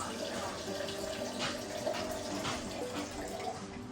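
Water runs steadily from a tap or is poured for making coconut oil, a continuous splashing wash with no break through the whole stretch.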